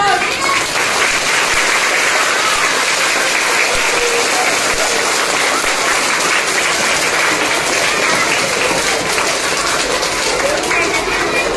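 Audience at an annual prize distribution applauds in loud, continuous clapping from many hands, with a voice speaking over the dense, steady ovation.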